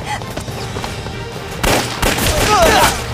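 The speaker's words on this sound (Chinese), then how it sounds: "开枪！" Gunfire in a Chinese war action film shootout: quiet background at first, then loud sharp shots and bursts in the second half, mixed with shouting voices.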